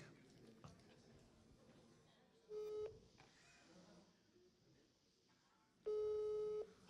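A telephone call being placed, with repeated electronic tones; two loud steady beeps ring out, one early and one near the end, over quiet low room noise.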